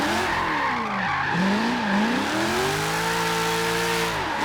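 A supercharged 1992 Ford Falcon GT drifts in Forza Horizon 3, its engine droning and sweeping in pitch while tires squeal through a continuous slide, loud and up close.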